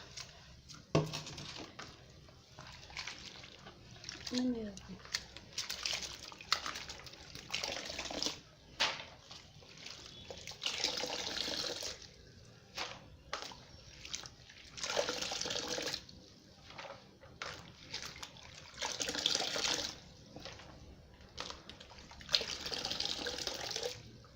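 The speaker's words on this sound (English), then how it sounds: "here is also the water leaf, which I'm going to be washing out from the water" Running water splashes and gurgles in bursts as waterleaf vegetables are swished and rinsed, with intermittent louder rushes of water close by.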